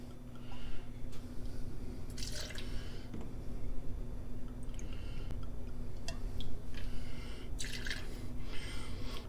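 Mezcal poured from a bottle into a cocktail measure for a Mezcal Buck, a steady liquid trickle with small splashy drips running throughout, close and moderately loud over a low background hum.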